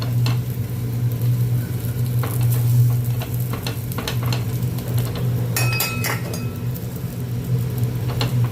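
An onion paratha fries in oil on a pan with a continuous close sizzle, while a utensil occasionally scrapes and clinks against the pan and a steady hum runs underneath.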